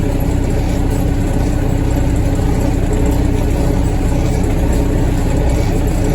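Loud, steady tractor engine idle rumbling close by, a constant low mechanical drone with no speech.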